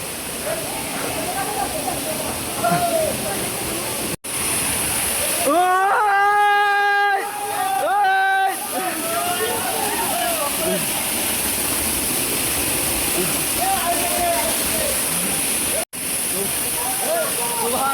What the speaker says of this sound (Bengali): বন্ধুরা আমরা অবশেষে চলে আসছি সেই ঝর্ণা যে বোয়ালিয়া ঝর্ণা